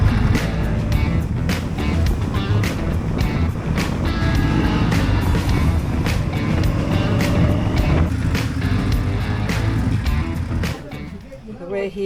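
Indian Scout motorcycle on the move during a press ride, steady loud engine and wind rush throughout with repeated bumps and buffeting, easing off slightly near the end.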